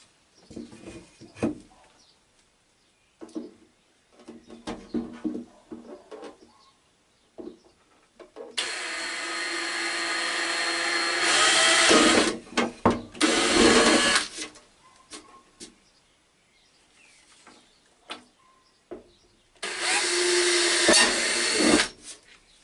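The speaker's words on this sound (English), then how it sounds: "So we got to drill some holes." A power drill whirs loudly in two sustained bursts into a piece of wood, the first lasting several seconds and the second shorter, with clattering handling noises and quiet gaps between them.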